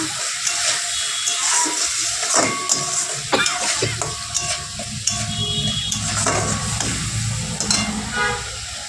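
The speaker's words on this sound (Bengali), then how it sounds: "নুন দিলাম, হলুদ গুঁড়ি, টমেটোটাও দিয়ে দিলাম, সব একসাথে নাড়াচাড়া দিয়ে" Salt, turmeric and tomato being stirred into frying spices in a pan for a bhola fish curry, wet sizzling and spattering with irregular spoon knocks and scrapes, close and fairly loud.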